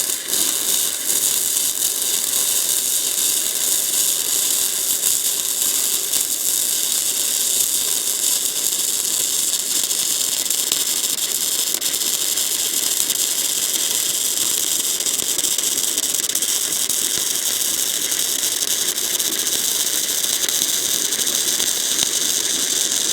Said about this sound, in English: I'm going to come through and weld that